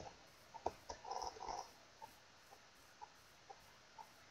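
A chicken in the video game Minecraft clucks softly in short, scattered bursts, a small cluster of quick clucks followed by single faint clucks at a steady spacing, alone with no talk.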